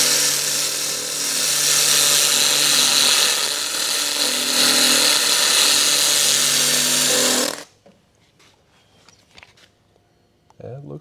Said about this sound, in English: You can see it smoking a little bit more this time, burning that grease off